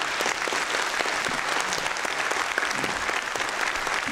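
A large conference audience applauds at length, a dense, sustained roar of clapping that stays loud and even throughout, with no speech heard.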